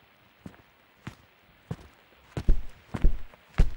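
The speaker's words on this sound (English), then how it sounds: "I heard footsteps." Footsteps in a scary video game: about seven distinct thudding steps over a quiet background, starting faint and growing heavier and closer, the final ones louder and more closely spaced.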